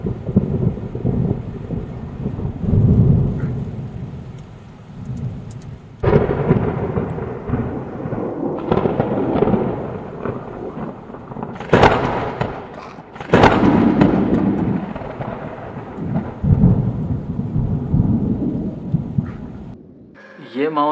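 Loud thunder cracks and long rumbles roll through a heavy rainstorm in Tharparkar, with steady rain and wind buffeting the microphone throughout.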